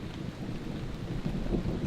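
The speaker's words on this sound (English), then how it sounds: "without a doubt, there's a thunderstorm out there" Deep rumbling thunder from an approaching thunderstorm at a forest campsite, a steady low roll with faint rain and wind, no voices.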